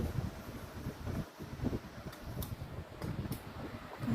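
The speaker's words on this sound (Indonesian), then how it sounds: "Kemudian kita akan coba menyalakan kipas 1 dan kipas 2 pada kecepatan 2." Two electric fans running together at speed setting 2 produce a steady, fairly quiet whooshing airflow with faint rustling fluctuations and a few soft high clicks, continuous throughout.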